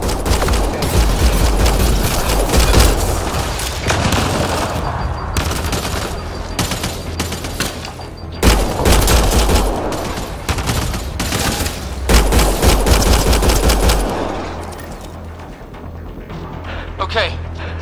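Sustained automatic gunfire from a Mass Effect Andromeda firefight, dense bursts with heavy low booms over a constant game backdrop, loud and busy throughout before easing near the end.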